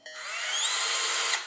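A Black+Decker Gopak cordless drill spins up in drill mode at high-speed setting 1, a steady close whirring whine held without a break.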